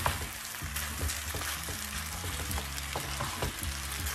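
Rice noodles with vegetables and mushrooms are stirred in a pan, giving a continuous moderate sizzle with repeated scraping and tossing scuffs at an uneven rhythm; no voices.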